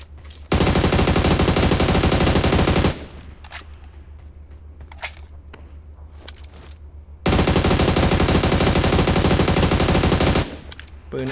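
AR assault rifle fire in PUBG Mobile: two long, loud sustained automatic bursts, each several seconds, with quieter scattered game sounds between them.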